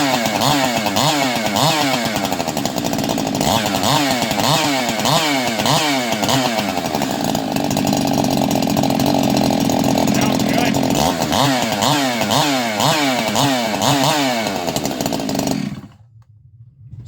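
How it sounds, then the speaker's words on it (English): A ported Stihl 391 chainsaw runs loud and close for about sixteen seconds, its engine revving up and down in repeated surges before cutting off to near silence. "I should have a video of this saw running."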